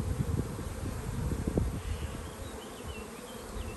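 A dense, steady buzz of honeybees rises from an open hive during a spring inspection, loud and close, with drones among the workers and a few brief sharper flickers.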